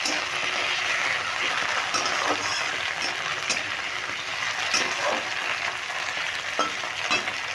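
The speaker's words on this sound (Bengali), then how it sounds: "পেঁয়াজগুলো হালকা লালচে করে ভেজে নেব" Onions and chopped tomatoes fry in a pan with a dense, loud sizzle that fills the whole stretch. Frequent light clicks and scrapes of stirring sit over it, with no one speaking.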